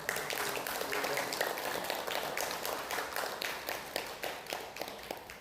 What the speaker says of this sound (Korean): 오신 모든 분들 감사의 박수